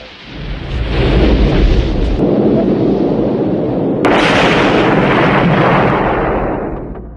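A huge fiery explosion at a gas station in the Rambo film, a loud sustained rumbling roar with a sharp fresh blast partway through that swells into another long rolling rumble, no voices.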